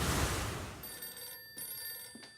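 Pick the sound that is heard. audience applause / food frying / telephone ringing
telephone ringing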